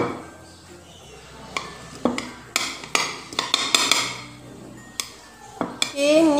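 A spoon mashing aloe vera gel, giving a series of sharp clinks, taps and scrapes against a dish in an irregular rhythm, close by and fairly loud.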